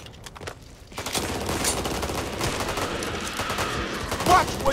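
Gunfire in the Back 4 Blood video game, with rapid bursts of automatic weapon fire that sustain steadily after a quieter opening and run at a moderate level alongside game ambience.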